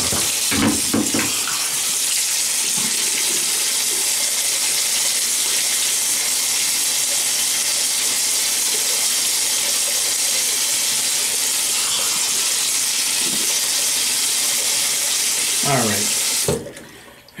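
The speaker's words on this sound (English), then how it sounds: "I'm gonna wet my face now." Water from a bathroom tap runs in a steady hiss while a face is wetted for shaving, with brief splashes near the start and just before the flow stops at the end.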